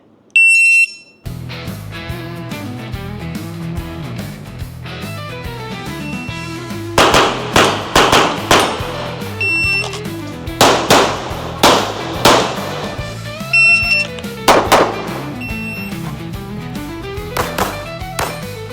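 A sharp electronic beep from a shooting-sport shot timer sounds at the start, followed by a rapid series of loud metallic bangs and clangs in irregular bursts, close and echoing.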